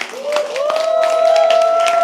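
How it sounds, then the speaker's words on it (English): Scattered clapping and crowd murmur from an audience at a live poetry open mic, moderately loud, partly masked by a sustained tonal sound and some cheering voices. "can we please have a round of applause?"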